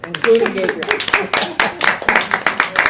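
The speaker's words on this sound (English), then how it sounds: "So I applaud all of you right now" Clapping for students in a university engineering class, a short run of rhythmic hand claps mixed with a speaker talking in a classroom.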